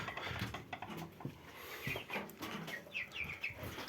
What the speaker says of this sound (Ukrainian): Ось наші курчатка.